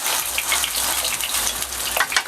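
Fish cake sizzles and fries in a hot pan over raised heat, a steady close crackling hiss with small popping bursts and faint stirring, no talk.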